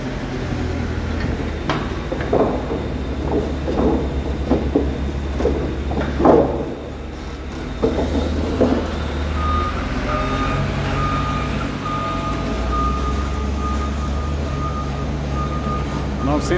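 A Caterpillar 924H wheel loader unloading wood moves about with its engine droning steadily while a reversing alarm beeps, and a few metallic clunks and knocks come through in the middle of the stretch.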